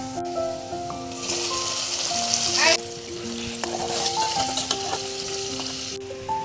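A spice paste of onion, garlic and chilli hits hot oil for chicken bhuna, and the sizzle swells loudly for a few seconds before settling into steady frying over soft background music.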